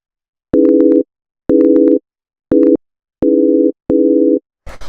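Deep minimal house synth stab playing a minor chord with an added minor seventh, five short sustained hits in a steady, evenly spaced rhythm, loud and clean with no voices.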